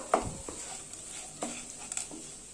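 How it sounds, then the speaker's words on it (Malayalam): Boiled potatoes for a potato thoran are mashed and stirred with a ladle in a pan, giving a few quiet, separate scraping and squishing strokes with soft pauses between them. "ഇത് വലിയ പീസസ് ഒക്കെ ഉണ്ടെങ്കിൽ തവി കൊണ്ട് ചെറുതായിട്ടൊന്ന് ഉടച്ചു കൊടുക്കണം."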